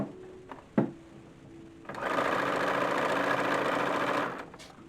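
A sewing machine stitching the seams of an 1850s-style summer dress: a few soft handling clicks, then a steady close motor whir running for about two and a half seconds before stopping.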